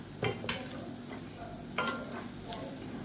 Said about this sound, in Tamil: அந்த பொடியை சேர்த்துக்கலாம் சேர்த்துட்டு நல்லா கலந்து விட்டுக்கலாம்